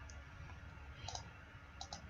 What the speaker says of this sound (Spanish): Cuando hago clic, se sitúa.